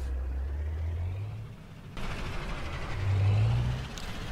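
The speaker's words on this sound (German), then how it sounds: "Was wir schon hören, wir haben V8-Sound" Scania R420 truck with V8 engine sound in Euro Truck Simulator 2, a steady low engine drone that rises and falls, with a sudden shift in cab noise midway.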